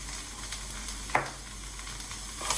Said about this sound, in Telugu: ఉప్పు కారం వేసినాక చక్కగా ఒక్క నిమిషం పచ్చివాసన పోయేదాకా వేయించుకుంటున్నాం